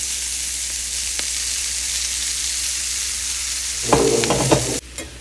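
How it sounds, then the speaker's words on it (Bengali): Shredded cabbage frying with potatoes in a pan gives a steady close sizzle, then a burst of stirring and scraping near the end before the sound cuts off, with no talking. "এবার এর মধ্যে বাঁধাকপিগুলো দিয়ে দিচ্ছি বাঁধাকপি দেখতে অনেকটা বেশি লাগে কিন্তু ভাজা করার পর একদম অল্প হয়ে যায়"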